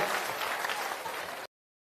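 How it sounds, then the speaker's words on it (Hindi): Loud, dense applause from a village gathering audience honoring a speaker, steady broadband clapping for about a second and a half before cutting off abruptly. "बार जोरदार ताली बजाइए"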